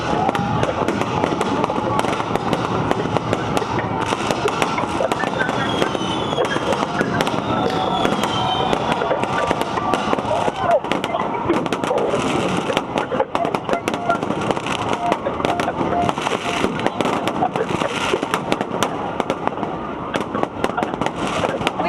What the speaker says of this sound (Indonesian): kembang api di Bundaran HI tidak kalah meriah dengan kembang api di belahan negara